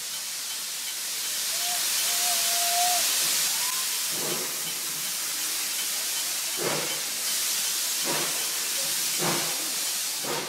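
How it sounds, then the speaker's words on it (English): The Puffing Billy steam train lets out a loud, continuous hiss of steam, broken by a few short puffs and clanks near the end, with a faint whistle-like tone early on. "the main purpose of the steam train is to serve as a sightseeing ride"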